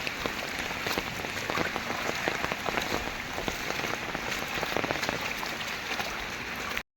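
Heavy rain pouring down in a village, a dense, steady roar of drops pattering on surfaces, unbroken until an abrupt stop at the very end.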